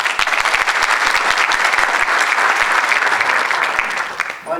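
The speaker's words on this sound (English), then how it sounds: "Good round of applause for our speaker." An audience applauds a speaker at a talk, steady dense clapping filling the room for several seconds before it starts to taper off at the end.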